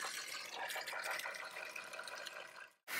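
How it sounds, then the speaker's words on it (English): Water rushes steadily out of an opened low point drain line valve on a TAB 400, Avia or Cirrus camping trailer, a close, continuous hiss that cuts off abruptly near the end. "Drain those one at a time and just open the valve until water stops coming out."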